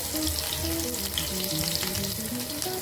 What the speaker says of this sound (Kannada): ಉಳ್ಳಾಗಡ್ಡಿನ ಚೆನ್ನಾಗೆ ಫ್ರೈ ಮಾಡಿರಿ.